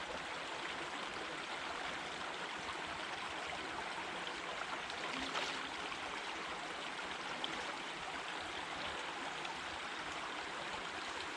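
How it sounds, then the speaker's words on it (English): Stream water steadily rushing and trickling while a water filter bag is being filled, a constant close wash of flowing water with no talking. "So I'm going to fill the bag up"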